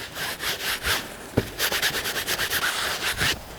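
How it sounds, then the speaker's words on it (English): Oil paint is scraped hard off a plein air painting surface in a rapid series of rhythmic rasping strokes, about a dozen back-and-forth passes, close and fairly loud, with no talk. "I want to scrape this pretty hard. I want to get as much of the oil off of this as possible."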